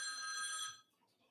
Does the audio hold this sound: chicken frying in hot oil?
no